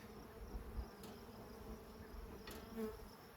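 Bees from an opened beehive hum steadily at close range, a continuous faint buzzing drone with no voices.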